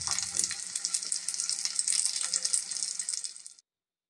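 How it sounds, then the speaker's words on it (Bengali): Battered folui fish frying in a pan over a low gas flame, a bright steady sizzle with crackling pops for about three and a half seconds before cutting to silence. "এক সাইড ভাজা হয়ে গেলে আর এক সাইডও ভেজে নেব।"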